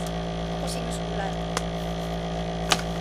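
Steady, noisy hum of a home air conditioner running continuously at close range, an unbroken drone with a few faint clicks and small rustles on top.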